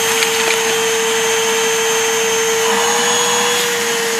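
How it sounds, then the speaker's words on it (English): A vacuum cleaner runs outdoors sucking up snow, a loud steady whine with a constant high tone over broad airy rushing, close and unbroken throughout. "That's one clever vacuum."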